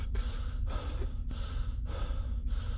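Heavy breathing in the horror video game The Mimic, a close, loud panting with about five rhythmic gasping breaths in a row.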